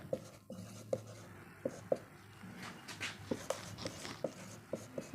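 Handwriting a short English sentence, pen or chalk strokes tapping and scratching in irregular bursts at close range, with faint background noise and no talk.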